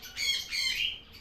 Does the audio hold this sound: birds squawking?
yes